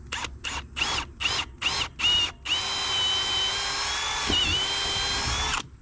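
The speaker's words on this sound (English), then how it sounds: "Drill our first one." A power drill bores through a wooden gate post, starting with six short, loud bursts of trigger pulses, then running in one steady, high whine for about three seconds before stopping.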